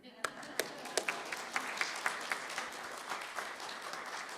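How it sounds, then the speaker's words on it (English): Audience at a spiritual community gathering applauding, with a few distinct sharp claps standing out over a soft, steady patter of hands, fairly quiet and somewhat distant. "let's applaud Hillary's pizza delivery"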